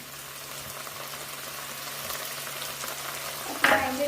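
Ginger garlic paste sautés in hot coconut oil in a pan for masala chicken, giving a soft, steady frying hiss that flares into a sharper, louder sizzle near the end.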